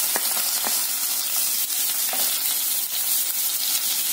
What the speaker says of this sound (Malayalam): ഇനി നമുക്ക് ഈ ഇഞ്ചിയും വെളുത്തുള്ളിയും ഈ അതേ എണ്ണയിലേക്ക് തന്നെ ഇടാം.